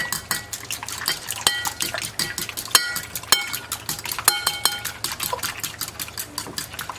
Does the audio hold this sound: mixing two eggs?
yes